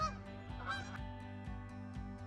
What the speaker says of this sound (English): The air is filled with the sound of geese and other birds as they fly overhead.